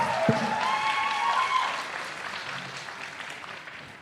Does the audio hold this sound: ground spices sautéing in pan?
no